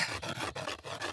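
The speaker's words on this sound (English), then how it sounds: "Rub two sticks together really fast," Two sticks rubbed together very fast to start a fire in a cartoon, a steady close rasping scrape that pulses in quick strokes about every third of a second with no talk.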